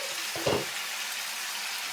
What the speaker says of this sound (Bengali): আমটা আমার ভালোভাবে ভাজা হয়ে গেছে দেখুন